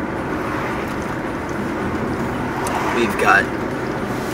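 A car drives out toward rural land, its steady low road and engine rumble running underneath throughout while a person speaks briefly near the end.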